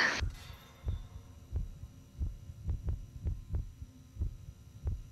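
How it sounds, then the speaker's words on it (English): A heartbeat effect in the Backrooms horror game throbs over a low droning hum, a steady run of deep thumps about two per second, moderately loud and heard without talk. "the heartbeat's going nuts when I'm like right here"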